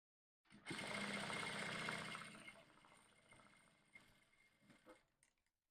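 A sewing machine runs in a quick burst, stitching bias binding to a seam allowance for corset boning, a close whirring buzz that fades into softer handling noises and a few clicks.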